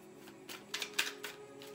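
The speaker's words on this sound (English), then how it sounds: "let's grab some index cards" Index cards being picked up and shuffled in a tarot reading, a few quick papery flicks and taps close by, soft and brief, with no talking.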